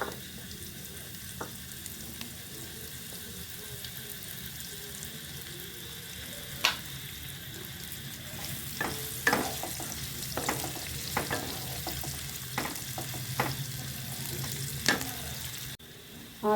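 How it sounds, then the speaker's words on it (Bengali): Onion frying in very hot oil in a wok, a quiet continuous sizzle broken by scattered scraping stirs that grow more frequent toward the end. "তেলটা কড়া গরম হয়ে গেছে। আমি একটু তেল দিচ্ছি। এবার সবজিগুলো ভাজবো। পেঁয়াজটা দিয়ে দিলাম।"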